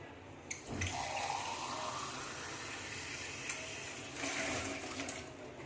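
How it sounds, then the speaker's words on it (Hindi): Water pours steadily into a pot with a continuous close splashing rush, rising slightly in pitch as it fills. "1 गिलास पानी ऐड करेंगे।"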